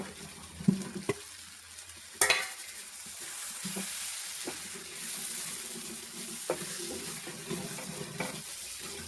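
Masala of coriander, chilli and turmeric powder sizzles and crackles in a hot pan while a spoon stirs and scrapes, with a few sharp clinks of metal against the pan.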